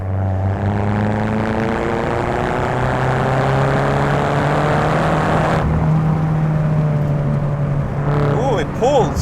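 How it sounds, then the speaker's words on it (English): Turbocharged car accelerating hard uphill in third gear, engine note climbing steadily in pitch and loudness from inside the cabin, a gear change or lift near the end, with someone talking over it. "So we're uphill, third gear, put your foot down, and the turbo picks up."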